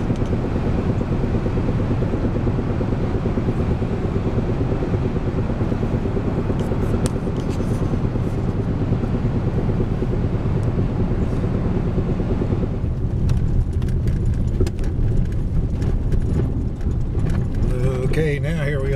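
A car rolling down a bumpy snow-covered road during a January snowstorm, a loud continuous low engine and road rumble from inside the cabin, with rattles and thumps over the bumps in the later part.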